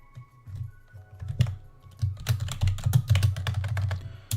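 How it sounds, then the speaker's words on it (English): Rapid, uneven typing on a computer keyboard, close and clear, with bursts of key clicks speeding up in the second half over a low background hum. "this shows me typing it in, and it shows how bad I mistype stuff"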